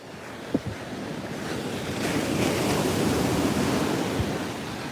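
Ocean surf crashing on a beach at Vero Beach, a broad continuous roar of breaking waves with wind noise across the microphone, no talk.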